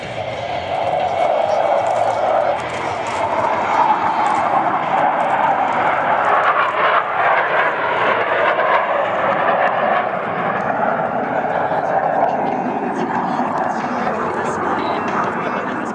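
Blue Angels jet demonstration team aircraft at an air show, flying a maneuver with landing gear and tail hooks extended; a steady, loud, broad jet roar continues throughout with a crowd faintly behind it.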